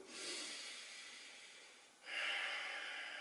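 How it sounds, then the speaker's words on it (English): A deep, drawn-out breath taken during a standing hamstring stretch, a soft airy inhale followed by a stronger, brighter exhale, close and alone with no talk. "One deep breath here too."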